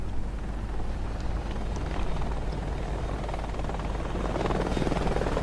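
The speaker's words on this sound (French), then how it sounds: "Oh, un hélico." A helicopter in the video game Call of Duty: Advanced Warfare throbs with a continuous rotor chop, moderately loud and steady, alone without voices.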